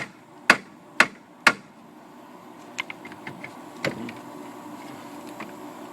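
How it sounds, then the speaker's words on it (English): Three sharp, evenly spaced hammer taps on a supported front wheel hub part of a 1998 Mk3 Jetta during a wheel bearing job, close and loud, followed by lighter scattered metallic clinks. "I'll support the thing here and just give us a little tap down."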